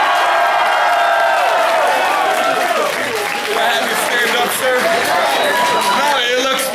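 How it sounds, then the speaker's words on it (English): A live audience at a Baltimore Soundstage concert, claps and cheers for a hip-hop performer, loud and close, with a dense wash of applause, whoops and crowd babble filling the whole stretch. "Make noise for Colin, ladies and gentlemen."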